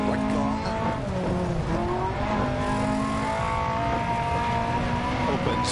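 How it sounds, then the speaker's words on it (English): A rally car engine revs hard in DiRT Rally 2.0, on the Lancia Fulvia, a continuous loud whine with shifting pitch and tire noise throughout, with no spoken words. "Revving it to the absolute limit."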